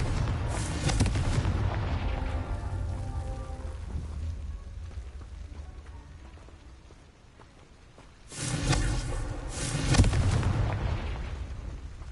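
Confringo blasting spell explosions in the game Hogwarts Legacy: two loud, rumbling bursts, one at the start and one about eight seconds later, each fading into a long, crackling tail.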